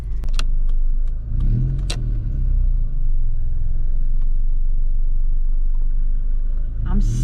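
A Honda Civic engine idling low with dimming lights, a steady deep drone with faint harmonics, broken by a few sharp clicks near the start and a brief louder sound at the end.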